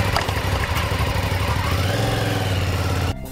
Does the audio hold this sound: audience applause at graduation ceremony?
no